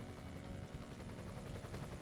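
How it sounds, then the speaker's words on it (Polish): A helicopter landing in the Emergency 20 video game gives off a steady rotor chop and engine drone, faint and even throughout, with no speech over it. "Helikopter ląduje."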